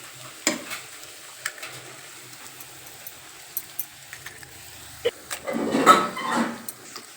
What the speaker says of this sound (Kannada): ನಾಲ್ಕು ಎಗ್ ಹಾಕ್ಕೊಂಡಿದ್ದೀನಿ. ಇವಾಗ ಒಂದು ಸ್ವಲ್ಪ ಅದು ಹಂಗೇ ಫ್ರೈ ಆಗಲಿ